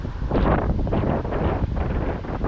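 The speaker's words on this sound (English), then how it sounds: "You'll notice it's windy today, noticeably so." Strong wind buffets the microphone outdoors on a walk in Maine, a loud, rough, gusting roar filling the whole stretch with no pause.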